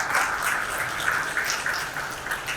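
Applause rises from the audience at an aviation awards ceremony, moderately distant and steady, with no speech over it.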